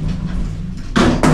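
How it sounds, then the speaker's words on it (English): Station lift doors at Woolwich slide shut with a short rumble, then two firm thuds land close and loud near the end. "Doors closing."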